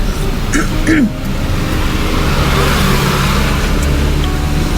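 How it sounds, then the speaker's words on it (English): A truck drives past on a road in Kerala, India, rumbling close and loud with a steady roar of traffic noise. A voice speaks briefly at the start. "Let the truck go past."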